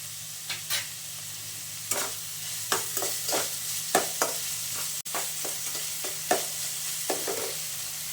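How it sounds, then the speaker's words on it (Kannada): Onions fry in oil in a pan while a spoon stirs them, with a steady sizzle running throughout and a series of scraping stirs recurring at irregular intervals, close and fairly loud, no voices. "ಇದೆಲ್ಲ ಸ್ವಲ್ಪ ಆಯಿಲಲ್ಲಿ ಫ್ರೈ ಆಗಬೇಕು"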